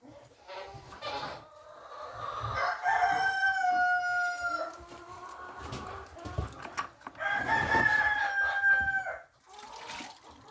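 Rooster Willie crows hoarsely on a farm ranch, two long rasping crows with strained harmonics, the first stretching around two seconds and the second later, amid chicken clucks and a low farmyard background.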